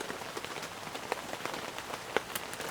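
Rain patters steadily on a surface around a truck camp hammock setup, with scattered louder drops tapping nearby through an even wash of falling rain and no voices.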